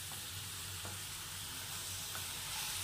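Chicken pieces being mixed with masala and salt in a pan, a continuous soft hissing scrape with a few light clicks from the stirring.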